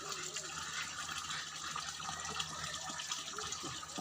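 A natural spring at Tampilisan in Buug, Zamboanga Sibugay, gives off a faint, steady trickle and splash of flowing water for a few seconds, recorded outdoors at low level.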